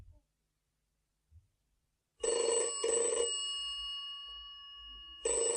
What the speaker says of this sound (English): A phone call.